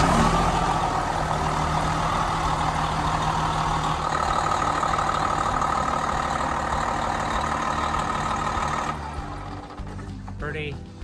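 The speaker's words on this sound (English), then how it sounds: "that's the big engine there that pushes us down the road" A large bus diesel engine cranks, then rumbles steadily at idle, loud and close, with someone talking over it throughout.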